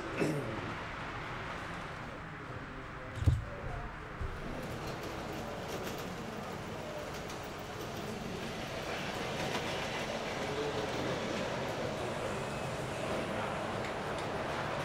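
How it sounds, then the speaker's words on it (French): Garden-scale model trains on a 45 mm gauge track layout rumble and clatter steadily in an indoor club room, a continuous moderate rolling noise with a brief knock early on and faint voices in the background. "celle par laquelle les visiteurs accèdent aux locaux du club est occupée par un grand circuit de trains de jardin."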